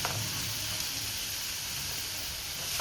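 Garlic cloves and ginger sizzle in a hot pan, a steady close hiss with fine crackle that holds evenly from start to finish.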